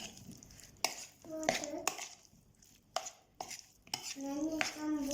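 Potato salad ingredients with lemon juice are tossed and stirred in a bowl, with clinks and scraping knocks against the dish, while a voice speaks intermittently nearby.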